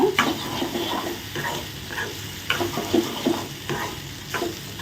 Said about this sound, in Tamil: இதே மாதிரி நல்லா சிம்மில் வச்சு சா ரைஸை வந்து நல்லா மிக்ஸ் பண்ணுங்க